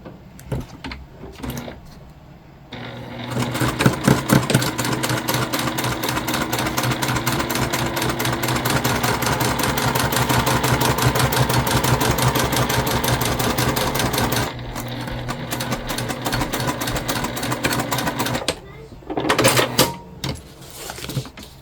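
A sewing machine runs in a steady, continuous stitching burst for about twelve seconds, joining the top edge of the side pocket pieces for a convertible bag, right sides together. It starts and stops with short pauses around it, and no one talks.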